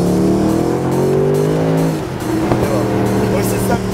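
A powerful Mercedes SLS AMG Roadster V8 engine revs and roars with a deep rumbling tone, rising and dropping in pitch, loud and close, with brief talk underneath.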